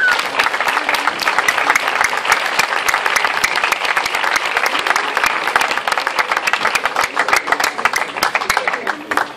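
Loud, steady applause from a crowd at an outdoor town festival flag-raising ceremony, with many hands clapping in a dense, continuous patter throughout.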